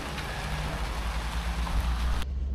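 Heavy rain falls at a grassland campsite on the Inner Mongolian steppe, a dense steady patter close by that cuts off abruptly near the end.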